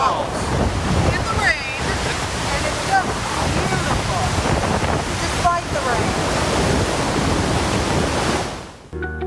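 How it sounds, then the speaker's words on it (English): Iguazu Falls roars in a heavy rain while walking on a walkway above the water, a loud, dense, unbroken rush that fills the whole scene, close at hand and never letting up. "We're walking over Iguazu Falls. In the rain."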